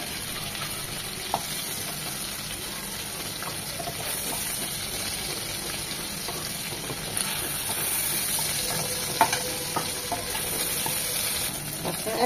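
Hilsa fish pieces frying in oil for a bean and potato chorchori, a constant crackling sizzle with occasional sharp pops and scrapes from turning the fish, close and steady throughout.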